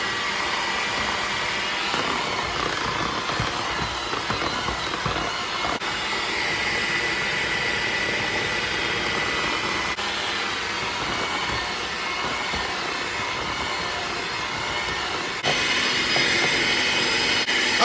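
An electric stand mixer running on low speed, beating sifted powdered sugar into cream cheese frosting for churro cupcakes, gives a steady whirring drone that holds even throughout and grows slightly louder near the end.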